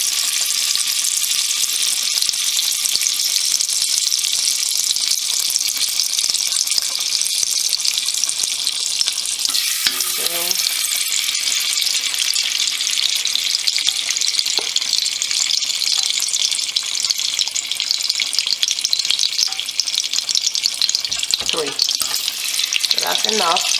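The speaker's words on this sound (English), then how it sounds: "you just go ahead and let that oil melt in the pot" Oil heats and sizzles in a pot for Nigerian ofada stew, producing a loud, continuous crackling hiss that runs throughout, broken by a few utensil clinks and stirring sounds, with no talk.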